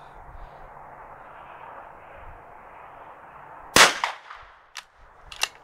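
A rifle fires one sharp, loud shot at an outdoor shooting range after a stretch of quiet wind and room noise, and a few fainter echoing cracks and knocks follow close behind.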